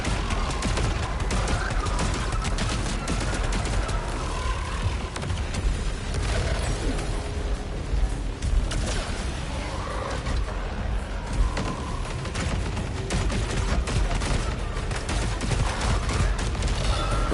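Continuous dense weapon fire from the alternate fire mode in the video game Saros, a loud unbroken barrage of shots and blasts layered over game effects.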